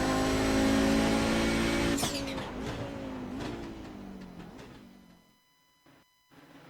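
An Audi race car in a racing video game accelerates hard at Spa-Francorchamps, its loud engine climbing in pitch through several gear changes before dropping away to near silence at the end.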